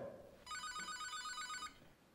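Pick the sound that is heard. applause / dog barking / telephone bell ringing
telephone bell ringing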